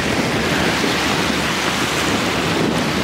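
Waves wash steadily at a campground in Utah, a loud, dense, continuous roar of surf with no breaks and no voices.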